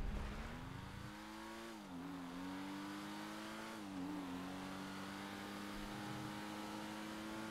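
Car engine in the racing video game GTA V, a steady droning hum that holds a low pitch, dips briefly twice as the car shifts or slows, then runs on evenly, faint and alone.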